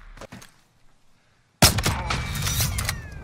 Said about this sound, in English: Somebody else is shooting at us from the right.